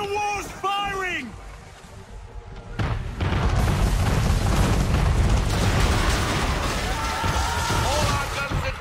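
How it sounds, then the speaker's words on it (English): Enemy man-of-war cannon fire in a video game: heavy booming blasts and rumbling impacts build into a dense, loud barrage, with speech-like voices heard at the start. "We're under attack! Man of war's firing!"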